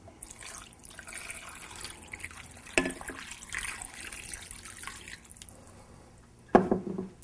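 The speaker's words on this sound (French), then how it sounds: "Et on termine avec un peu d'eau" Water poured from a tap into a pot of braised rabbit with red wine, to cover the meat: a steady splashing, trickling stream with sink-like wash, moderately near, plus a couple of sharper knocks, no talk.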